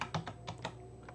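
Computer keyboard keys typed to test an AZERTY French layout on an Arch Linux system, a few quick separate clicks, close and moderately quiet, over a faint steady electrical hum.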